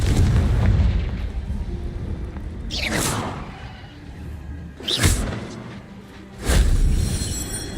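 Confringo fire spell explosions in the video game Hogwarts Legacy: three sharp whooshing blasts with booming tails, spaced a couple of seconds apart over a low rumbling background.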